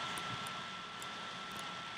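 A wall of jet engines roars in the Happy Wheels video game, a steady broadband rushing hiss that holds at an even level throughout with no pauses.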